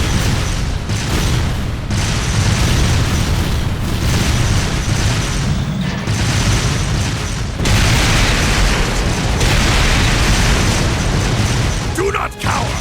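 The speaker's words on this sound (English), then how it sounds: "Fire a barrage to cover your retreat!" An artillery barrage from the video game Trails of Cold Steel 2 pounds in repeated loud booms and bursts that roll one after another, filling the mix with dense, heavy rumble.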